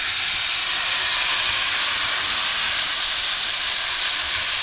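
Thin ghavane rice batter poured from a cup onto a hot pan, giving a steady, loud hiss and sizzle that fills the whole stretch with no talking.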